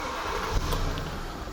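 A Mercedes-Benz W221 S500 with the M273 V8 idles after an ECU repair. The engine gives a steady, close, low hum with a slightly uneven idle and no voices.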